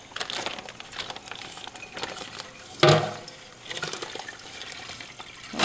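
Tap water runs steadily while raw tuna is rinsed off before smoking for a tuna dip, a continuous splashing hiss with a brief louder gush midway; no talking.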